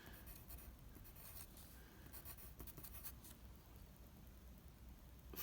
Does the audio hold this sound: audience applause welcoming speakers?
no